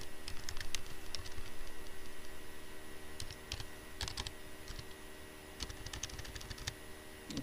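Typing on a computer keyboard, with a steady run of close, crisp key clicks and a few louder bursts, continuous throughout with no talking.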